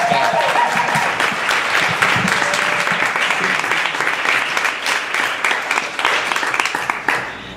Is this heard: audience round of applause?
yes